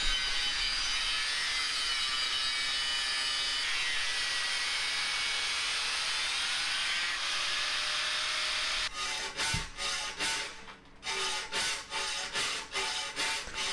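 Hand hacksaw cutting through metal stock for a knife handle, a rapid series of rasping back-and-forth strokes starting partway in after a steady hiss, close and fairly loud with no talk.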